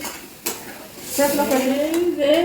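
Food sizzles in a pan on a gas stove in a home kitchen while a utensil stirs and scrapes, growing louder halfway through, with a faint voice in the background.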